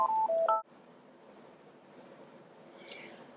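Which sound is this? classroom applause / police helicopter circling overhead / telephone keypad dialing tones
telephone keypad dialing tones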